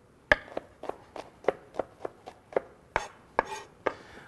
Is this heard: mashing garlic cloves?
yes